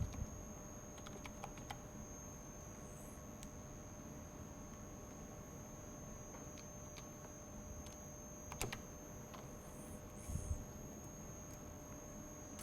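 Someone types steadily on a computer keyboard at a desk, producing soft, close key clicks in an irregular rhythm with a few slightly louder taps, over a faint steady hum and no talk.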